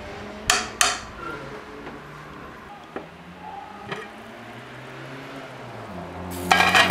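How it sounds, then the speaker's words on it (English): A lid is set back onto a slow cooker of goulash, giving a couple of sharp ceramic clanks followed by lighter taps and a final rattling clatter, with soft background noise between. "put the lid back on"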